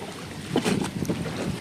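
Small eight-seat boat pulling up to a jetty on the backwaters near Sambranikodi, Kollam, with a close engine drone partly buried under gusty wind buffeting the microphone.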